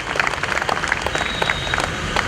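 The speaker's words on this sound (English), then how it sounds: "A big round of applause for our maid of honor, Aditi." Wedding guests break into a warm round of applause for the maid of honor during a wedding toast, a dense burst of many hands clapping close by, steady for a couple of seconds.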